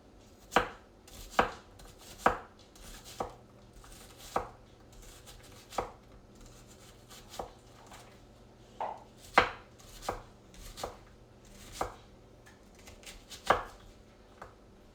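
A sharp knife chopping onions on a cutting board, about twenty crisp, close cuts in an uneven rhythm, with pauses between bursts and no talk.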